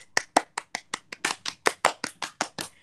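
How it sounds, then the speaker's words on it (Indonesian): Children in a classroom clap their hands in a rhythmic cheer, about fourteen crisp claps in a steady, slightly quickening beat, close and clear with no talk over them. "kita beri tepuk tangan"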